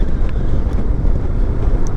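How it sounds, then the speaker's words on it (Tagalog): Strong wind buffeting the microphone on a mountain road at Malico where motorcycles were slipping, a loud continuous low roar with gusty surges throughout and no talking. "Nalakas kasi ng hangin"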